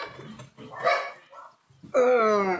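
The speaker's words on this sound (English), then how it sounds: "That's my dog Atari saying hello this time." A pet dog named Atari barks at a neighbour visiting some distance away, with a couple of sharp woofs, a brief whine and then a long, loud bark, heard close up with no voices.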